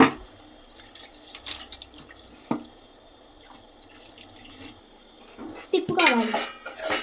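Half a glass of water goes into a pan of chicken curry, a close splash and trickle near the end after quiet clinks of utensils against the pan, with a voice faintly present.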